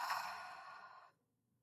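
A deep breath pushed out through the mouth during a guided relaxation, one soft airy exhale lasting about a second, close and quiet, then silence.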